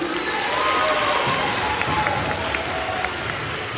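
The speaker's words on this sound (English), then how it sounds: "Give one more round of applause, please." Audience applauding the scholars at a sixth grade honors day, a steady round of clapping from a crowd in a school hall, moderately loud and continuous.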